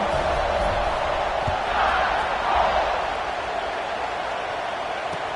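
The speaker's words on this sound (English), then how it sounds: "this crowd is buzzing after that last score" A football stadium crowd at a Bama vs Tennessee game keeps up a steady, dense roar and buzz after a score, broad and continuous, swelling slightly midway.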